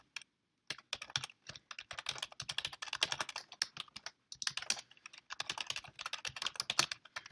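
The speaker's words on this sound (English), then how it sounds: "Boy, I can't type today." Quick bursts of clacky keystrokes on a computer keyboard while someone codes, with short pauses between runs of typing and no voices.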